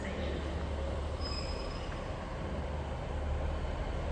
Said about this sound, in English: And also arriving in as a Transparent Express service off to Liverpool Lime Street